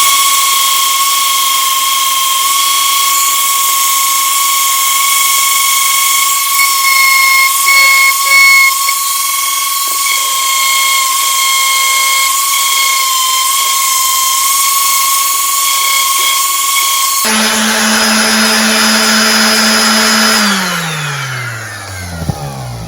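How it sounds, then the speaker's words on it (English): A DeWalt power sander works Bondo filler on a 1957 Johnson 10 HP QD-18 outboard motor, giving off a constant high-pitched electric whine. Near the end the motor winds down and the pitch falls. "Got my DeWalt sander here. I'm gonna sand her down now."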